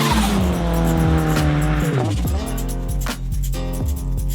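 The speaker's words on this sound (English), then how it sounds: "what is it like to drive a Mazda Miata with a Chevy Equinox engine?" Mazda Miata roadster with a swapped Chevy Equinox engine driven hard, its loud engine note sweeping through gear changes with tire squeal mixed in, close and sustained with no talk.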